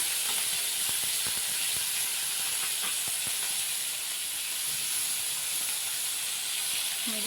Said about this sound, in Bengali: অল্প তেলে দেখবেন সুন্দর মাছ ভাজা হয়ে যায়